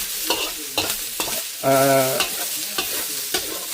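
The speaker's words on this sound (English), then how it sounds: "just cooking some onions for my Chinese" Onions fry in a pan for a Chinese-style minced beef curry, a bright sizzle broken by several scraping stirs of a utensil, close up, with a brief tonal scrape or hum in the middle and no voices.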